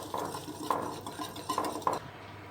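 A semolina dessert batter with oil and vanilla gets whisked in a bowl, giving soft repeated clinks and scrapes against the sides in a quick uneven rhythm, faint and close with no speech.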